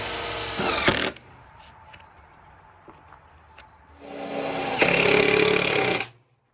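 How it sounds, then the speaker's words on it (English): A power drill drives self-tapping screws into a homemade chicken feeder, two loud whirring bursts with a quiet gap of faint tapping and handling between them, ending abruptly in silence. "he's going to screw these in here to secure them using self-tapping"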